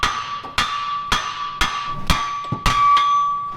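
Sharp hammer blows strike a custom suspension part for a supercharged Bronco II, landing about seven times at a steady half-second rhythm, each ringing with a bright metallic tone close by.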